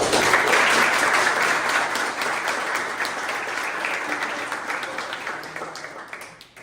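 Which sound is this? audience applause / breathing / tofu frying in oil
audience applause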